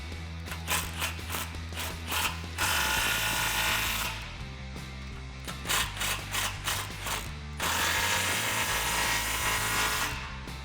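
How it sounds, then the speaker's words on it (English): A ratchet wrench with a 15 mm socket tightens exhaust clamps on a 2015-2019 Dodge Challenger 6.4L HEMI during a Corsa cat-back install, giving close, loud bursts of rapid clicking broken by brief pauses, with no talk. "Grab your 15 socket and tighten down the clamps."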